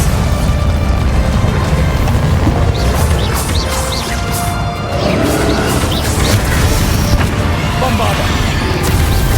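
A Glacius freezing spell is cast in Hogwarts Legacy amid a dragon fight. Loud, continuous rumbling booms and crashes fill the scene, with sharp cracks and snaps on top and voices in the mix.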